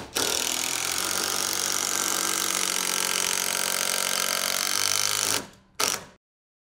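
A power driver sinking a fastener into wooden shed trim, a loud continuous whirring drive lasting several seconds, then a short final burst before it stops.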